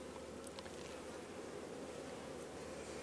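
A steady, faint buzz of honeybees hums without pause, like a colony droning nearby at a beekeeping farm, with no voices.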